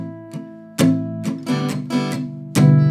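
An acoustic guitar is strummed in a beginner-lesson pattern, with short muted palm-damped down strums alternating with brighter up strums that ring out, played close and alone.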